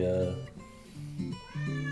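A cat meows repeatedly, long drawn-out cries close by, with brief pauses between them.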